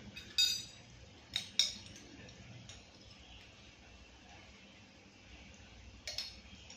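A small spoon clinks faintly against a container while turmeric powder is added to a batter for kochu pata bora, giving a few light taps and a double clink in a quiet kitchen.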